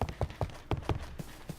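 Horse hooves clip-clopping in modded Minecraft 1.11.2, a run of evenly spaced hollow thuds at a steady trotting rhythm, close and moderately loud with no talk over them.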